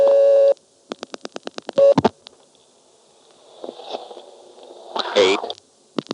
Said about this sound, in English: Dialing 8.